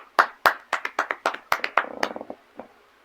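A small group claps in a quick, uneven patter of sharp, close hand claps that slow and thin out toward the end, ending with a final lone clap.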